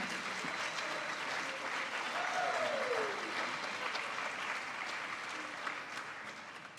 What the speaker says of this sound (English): Let's have one more round of applause for the 2024 Virginia State Teacher of the Year, Mr. Jeff Keller